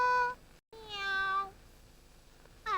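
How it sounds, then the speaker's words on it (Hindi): A cat meows three times indoors, two clear drawn-out cries close by followed by the start of a third, with quiet pauses between. "अरे, घर में बिल्ली कहाँ से आई?"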